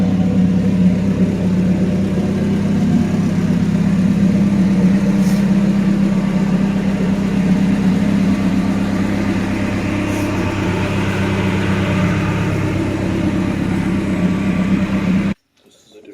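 A car's engine runs steadily before a test drive, after its spark plugs, plug wires and a V6 solenoid were replaced. The low, even hum continues close by, then cuts off abruptly near the end.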